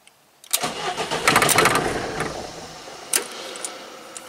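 Close-up of a 1986 Fiat Talento van engine firing at half a second, running loudly and roughly for about a second, then dying away as it stalls, followed by a few faint clicks and clunks.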